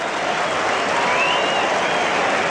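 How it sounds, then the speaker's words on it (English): Steady applause from a large crowd at a cricket ground during a World Series Cricket match, continuous and fairly loud, filling the whole stretch with no talk over it. "And applause from down that Sheridan stand in for Geoffrey Lawson."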